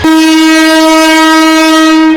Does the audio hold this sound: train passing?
yes